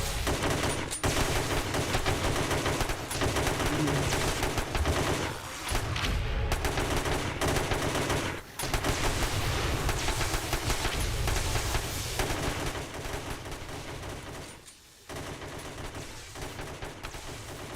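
Relentless gunfire in the zombie survival game 7 Days to Die, rapid automatic bursts packed into a dense, loud barrage that runs almost without pause, broken only by a few brief lulls.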